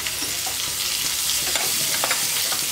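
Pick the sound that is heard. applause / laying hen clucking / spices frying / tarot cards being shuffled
spices frying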